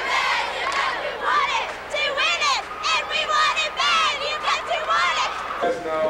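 A loud, roaring crowd at a 1997 high school basketball game involving the Pike Central Chargers yells and cheers in surging waves, filling the gym.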